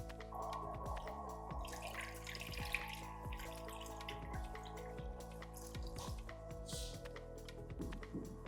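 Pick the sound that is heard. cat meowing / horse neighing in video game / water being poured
water being poured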